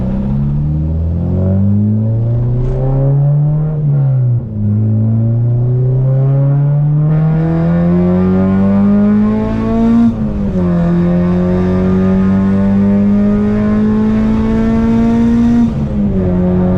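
An Acura RSX Type-S running a K-Pro tune pulls hard on a test drive. The engine drones loud and close, its pitch climbing through the gears, with a brief dip at each shift.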